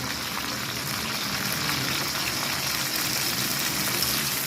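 Peanuts fry in hot oil in a pan for crunchy adobong mani, with garlic cooking alongside, giving a steady, dense sizzle that holds an even level throughout with no pauses and no talking.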